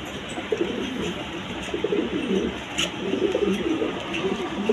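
Pigeons coo softly and repeatedly in a small pen, a low burbling chorus close by with faint background noise and occasional rustle.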